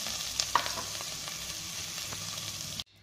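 Chopped carrot goes into a hot pan for a foxtail millet and sago khichdi, and a steady close sizzle of frying runs throughout with a few light clinks before cutting off abruptly.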